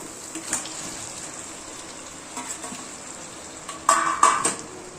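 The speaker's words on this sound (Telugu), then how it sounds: "ఇప్పుడు మనం కడిగి శుభ్రం చేసుకున్న పచ్చి రొయ్యలు యాడ్ చేసుకున్నాం" Raw prawns sizzle in a pan with fried ginger garlic paste, a steady faint frying hiss broken by a few sharp clinks and scrapes of a utensil near the end.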